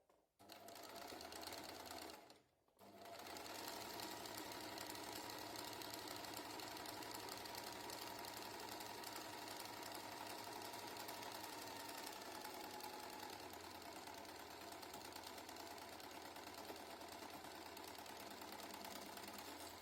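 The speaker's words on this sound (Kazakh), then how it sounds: "1 сантиметрмен сырып тігіп шығамыз." A sewing machine stitching fabric pieces together with a 1 cm seam, a loud, steady mechanical whirring that pauses briefly near the start and then runs on without a break, close up.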